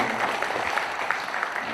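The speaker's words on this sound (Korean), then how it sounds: "축사를 해주신 박윤자 교육장님께 큰 박수 부탁드리겠습니다." A seated audience at a Naju education event applauds an education chief after her congratulatory speech, producing a dense, even wash of clapping that continues steadily through the short moment with no voices on top.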